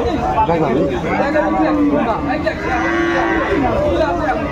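A cow moos loudly at a busy rural cattle market where she is sold with her calf, drawn-out lowing calls rising over steady chatter of nearby buyers and sellers.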